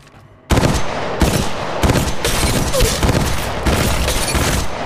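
Gunfire in Apex Legends Mobile: loud, dense automatic fire that runs almost without a break, with repeated bursts and heavy booming impacts layered over the steady roar.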